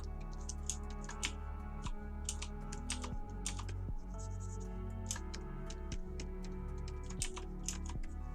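Someone typing on a computer keyboard, a quick irregular run of close, crisp key clicks over a low steady hum, with no talk.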